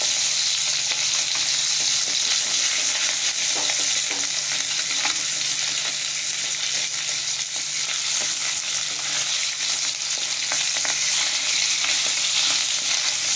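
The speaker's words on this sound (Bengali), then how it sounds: "এটা আমি কাতলা মাছ ভাজা করছি।" Catla fish sizzles and spits steadily in a hot pan of oil, a constant loud frying hiss with no talking.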